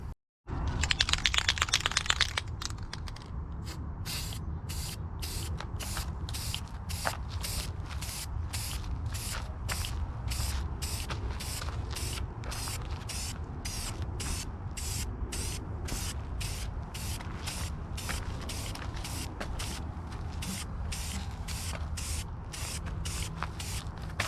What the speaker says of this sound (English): So let's see how this stuff lays down.